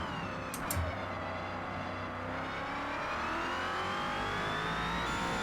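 A NASCAR Next Gen stock car in Forza Motorsport at Mount Panorama, its engine droning loudly and climbing in pitch through the revs, with a brief blip of a gear change early on.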